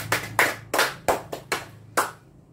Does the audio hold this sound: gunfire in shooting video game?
no